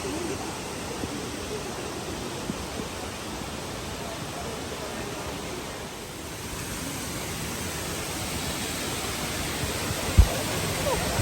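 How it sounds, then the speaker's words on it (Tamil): A steady, loud rush of falling water from Gollinger Waterfalls roars continuously, heard up close, broad and unbroken, with a brief thump near the end. "சூப்பராக தண்ணி கொட்டுற சவுண்டு கேட்குது."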